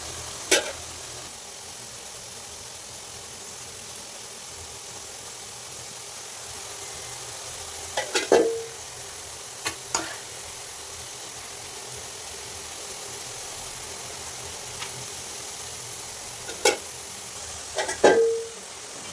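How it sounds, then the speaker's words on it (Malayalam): Jackfruit bulbs deep-frying in about two kilos of oil in a large uruli, a faint steady bubbling hiss with scattered louder clinks and scrapes of a ladle, and no voices. "നല്ല രണ്ട് കിലോ എണ്ണ ഒഴിച്ചിട്ട് വലിയൊരു ഉരുളിയിലാണ് ഞാനിത് വറക്കുന്നത്"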